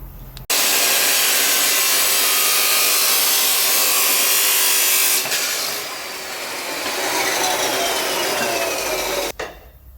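Power saw cutting through a steel propshaft for an E36 diesel swap, one long loud continuous grinding rasp lasting most of the clip, close, stopping abruptly near the end, with no voices.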